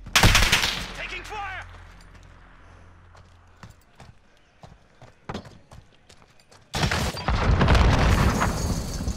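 Gunfire in a Call of Duty: Modern Warfare 2v2 match: a loud opening volley, scattered sharp single shots in the middle, then a dense burst of firing near the end, with a voice talking over parts of it.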